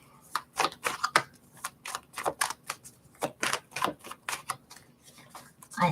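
Tarot cards are shuffled and flicked down in a quick, uneven series of sharp papery snaps and riffles, close and fairly quiet.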